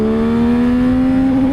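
A 2022 Yamaha XSR 900 motorcycle accelerating hard from 40 to 80 at its rev limiter, a loud close engine whine climbing steadily in pitch without a break.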